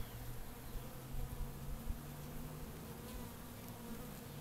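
Honey bees droning steadily during a hive inspection, a dense, continuous buzz of many insects close by, loud and even throughout with no voices.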